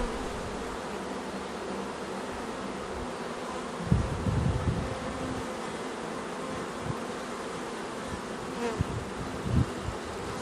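Honeybees swarm around an opened beehive during a colony check, making a dense, continuous buzzing hum close by, with occasional soft thumps and knocks from handling the hive frames.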